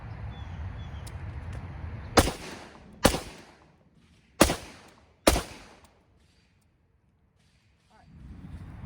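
Four sharp, loud rifle shots fired during a beginner shooting drill, spaced roughly a second apart with short echoing decays, followed by quiet.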